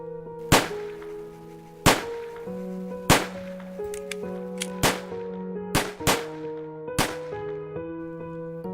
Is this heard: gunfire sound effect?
yes